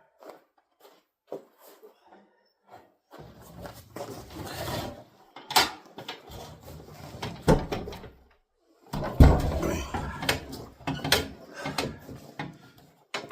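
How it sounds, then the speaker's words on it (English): A big door being opened to bring in a heavy generator: scraping and clunking mechanical sounds with rattling and rolling, moderately close, in several bursts over a quiet room, without talking. "Open up the big door."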